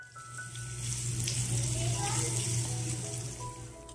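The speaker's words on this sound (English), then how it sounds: "While frying onions" Onions fry in hot oil in a home kitchen, a continuous sizzling hiss that swells steadily and stays at the same level throughout, fairly close, with a low hum underneath.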